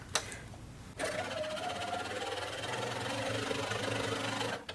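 A domestic sewing machine chain piecing improv quilt fabric runs in one continuous, close, fast mechanical whir with rapid needle rhythm for several seconds, bracketed by brief stops.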